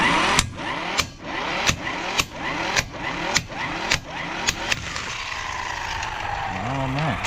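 A Seesii electric impact wrench hammering at a car's lug nut, sharp rapid bursts of rattling blows repeating in a quick rhythm, then easing into a lower whirring spin-down near the end, close and loud.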